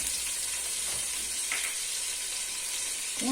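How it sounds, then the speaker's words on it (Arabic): Onion fries in a mix of butter and oil with a bright, constant sizzle and a few soft spoon scrapes as it is stirred in the pan for a quick rice dish. "نخلي هذا البصل ينقلى في هذه الزبده والزيت"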